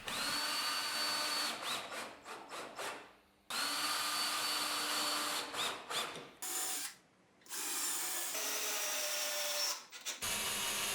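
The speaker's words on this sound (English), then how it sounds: "I join the two plywood pieces with screws and apply some linseed oil on them." A power drill drives screws to join plywood pieces for a wall-mounted bathroom vanity, several sustained whirring bursts with brief pauses between, loud and close.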